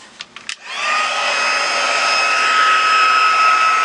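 A heat embossing tool blows hot air onto a card, starting after a few short clicks and then holding a steady, loud, even whoosh close by.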